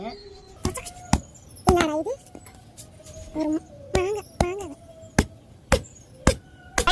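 Raw mango smashed with a stone outdoors, a series of sharp separate knocks spaced irregularly, mixed with lively chatter and exclamations from several people.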